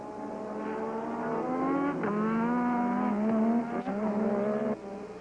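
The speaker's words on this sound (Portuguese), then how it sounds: "Olha o replay da ultrapassagem do Piquet em cima do Prost" Formula 1 race cars from the 1986 Canadian Grand Prix scream past at high revs, Piquet's car overtaking Prost's, engine notes climbing and shifting through gears as they pass close by, loud and without any talk.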